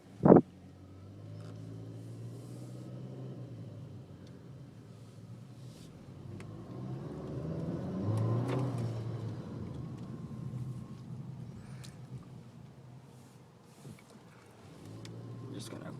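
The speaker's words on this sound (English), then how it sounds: "Just gonna quickly take it outside to show you guys how the car handles." Interior of a 2014 Nissan Altima 2.5S on a test drive, a low, soft engine and road drone that swells and fades gently, preceded by a sharp thump like a door closing.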